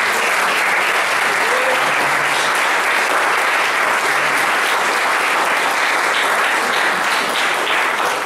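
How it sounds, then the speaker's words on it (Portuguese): A church congregation breaks into sustained, dense applause during a service, loud and even from start to finish with no talking over it. "Dê uma salva de palmas para Jesus."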